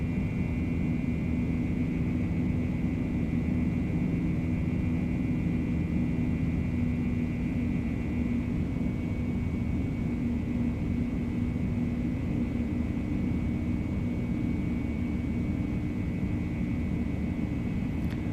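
A Beechcraft Bonanza V-tail light aircraft on approach drones with a steady, even engine rumble and a constant tonal hum, close and unbroken for the whole stretch, with no voices.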